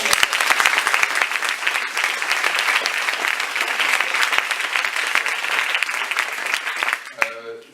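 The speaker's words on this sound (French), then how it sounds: "Nos intervenants, est-ce que vous pourrez tous applaudir?" Conference audience applauding the speakers, a dense, loud wash of many hands clapping that holds steady for about seven seconds before cutting off abruptly near the end.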